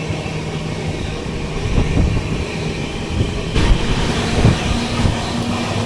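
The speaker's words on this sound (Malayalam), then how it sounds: "ഇവിടെയൊക്കെ റെയിൽ ഗ്രൈൻഡിങ് ചെയ്യുന്നു. കാരണം ട്രാക്കിൻ്റെ സൗണ്ട് കേട്ടിട്ടില്ലേ?" Train wheels roll steadily over freshly ground rails with a dense rushing roar and faint rhythmic clicks, fairly loud and continuous, heard from inside an AC 2-tier coach of an express train.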